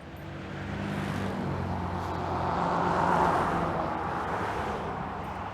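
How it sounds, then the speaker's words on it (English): A big truck rumbles past on a city road beside a sidewalk, its low engine drone swelling to a peak midway and then fading, loud and near with no voices. "We got a big truck coming."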